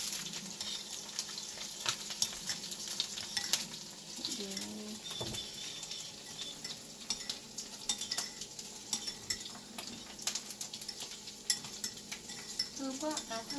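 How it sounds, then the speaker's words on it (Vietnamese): Dried snakehead fish fries in a sweet-sour sauce in a pan while a utensil stirs it, making a steady close sizzle with scraping, clattering strokes and occasional faint background sounds. "trộn đều nó lên"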